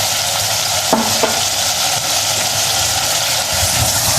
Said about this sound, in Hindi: ये सब डाल के इसको फ्राई करते रहेंगे।